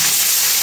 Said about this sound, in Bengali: তারপরে আমি এই 300 পেঁয়াজ কেটেছি, এটা ভেজে নিচ্ছি।